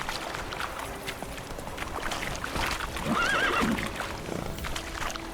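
Roach, the horse in The Witcher 3, gives a clear whinny mid-gallop as steady hoofbeats thud beneath, close and moderately loud, with no talking.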